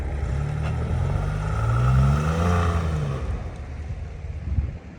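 A Nissan Rogue with all-wheel drive accelerating gently in snow, engine note rising and falling over a few seconds under a rough wind-and-tire rush, no voices.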